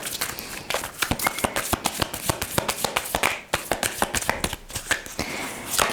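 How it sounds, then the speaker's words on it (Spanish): Tarot cards being shuffled by hand, a rapid series of crisp riffles and slaps close to the microphone, irregular bursts with a short pause midway. "vamos a comenzar a barajar"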